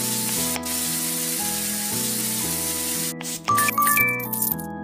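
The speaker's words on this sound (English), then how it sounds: "Spray it." A nasal medicine spray in a kids' horse-care video game gives one long soft hiss, then a short sparkly burst of chimes, all over looping cartoon background music.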